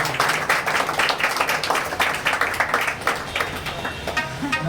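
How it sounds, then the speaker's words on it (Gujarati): Audience at a bhajan evening breaking into brisk, dense clapping, many hands at once, loud and close, thinning slightly toward the end. "સિદ્ધાર્થભાઈ માટે એકવાર જોરદાર તાળી"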